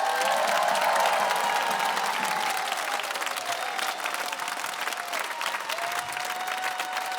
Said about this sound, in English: can we have a massive round of applause for the London Palladium?